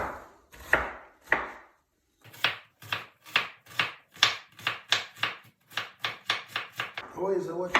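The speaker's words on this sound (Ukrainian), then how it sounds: "Цибульку постараюся нарізати так дрібонько." A knife finely chopping onion on a board makes sharp, close chops: a few spaced strikes, a short pause, then a quicker run of about a dozen rhythmic cuts, ending in a brief shuffle of pieces.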